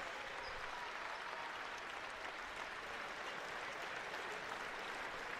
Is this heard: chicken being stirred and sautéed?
no